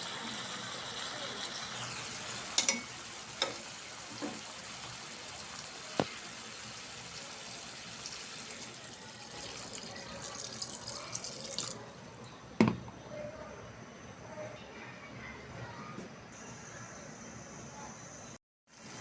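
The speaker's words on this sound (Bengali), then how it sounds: "এখন জল দিয়ে দেব" Water poured into a cooking pot on top of milk for a sour vegetable curry, a steady soft splash with a few light clinks, fairly faint and alone.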